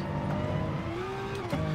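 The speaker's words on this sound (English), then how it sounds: "it has a very, very loud bark, a very strong engine noise" Loud racing-game car engine with a strong, barking note, revving continuously with rising and falling pitch throughout, heard close and alone without talk.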